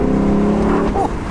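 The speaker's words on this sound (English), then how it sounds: "It floods the cabin with V8 sound, and if you love naturally aspirated V8 engines, this is going to probably sell itself just on that fact alone" The naturally aspirated V8 of a 2021 Lexus LC 500 Convertible drones loudly in a steady, deep rev heard from inside the cabin, then eases off slightly near the end, with no talking.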